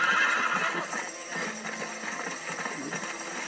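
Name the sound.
horse hooves while riding, video game Red Dead Redemption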